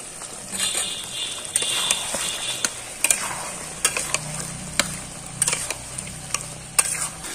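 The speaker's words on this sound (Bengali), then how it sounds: "চিড়ে আমরা তরকারিতে দিয়ে দেব।" Flattened rice is stirred into a curry cooking in a pan over a village clay stove, a steady sizzle broken by irregular scraping ticks and spoon knocks against the pan, heard close up.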